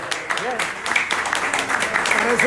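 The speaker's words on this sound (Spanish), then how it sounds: "Con un fuerte aplauso, por favor." A studio audience at a televised presentation of a Mexican regional band applauds steadily for a couple of seconds, with whoops and cheering voices rising over the clapping.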